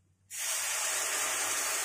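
A sudden loud, steady hiss and sizzle begins after a brief quiet moment and continues strongly as water is poured into a hot pan of spices with salt, chili, turmeric and sugar.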